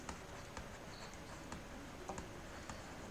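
Light tapping and scratching of writing on a board in a Class 7 maths lesson, a few soft irregular taps spread over a quiet, faint background with no talk.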